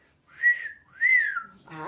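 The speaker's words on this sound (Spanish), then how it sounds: "están silbando, ¿verdad?" A person whistles two rising-and-falling notes, clear and close. At the very end a voice begins to speak.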